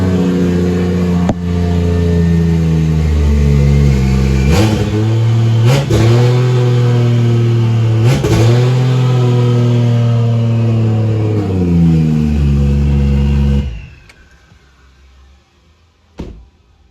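Ford XR6 Turbo with a Barra engine revving loudly up close: a sustained throaty idle rises through several sharp rev blips, then cuts out abruptly near the end leaving quiet, with one brief knock after.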